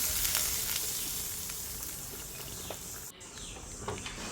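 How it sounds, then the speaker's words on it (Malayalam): Mustard seeds crackle and splutter continuously in hot oil while being tempered for a fig curry, a dense close-up sizzle with a few sharper pops. "അതിലോട്ട് കടുക് പൊട്ടിച്ച് ചേർക്കുകയാണ്"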